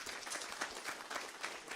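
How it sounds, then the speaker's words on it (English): Audience applause for a performer at an Arya Samaj foundation day program, a faint, steady patter of clapping from a modest crowd, brief and distant. "Give him another round of applause."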